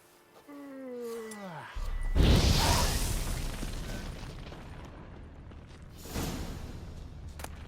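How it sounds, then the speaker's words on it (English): A fiery Igni sign blast goes off in The Witcher 3, a sudden loud whooshing burst that roars and slowly fades, followed by a second smaller flare, preceded by a brief swooping tonal effect. "Now for a shot of Igni."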